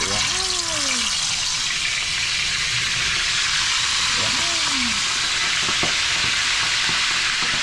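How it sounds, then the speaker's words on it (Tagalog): Food frying in a pan at a rural hut cooking setup, a steady loud sizzle throughout with occasional stirring, and brief bird-like or voice tones over it. "At mag-adobo si Kakogs tapos magpiprito ako"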